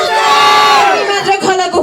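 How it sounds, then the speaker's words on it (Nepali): A crowd hoots, whoops and cheers loudly for the winner of a Dhime drum competition, sustained close shouting with rising and falling yells all the way through. "मात्र खलाको हुटिङ आयो"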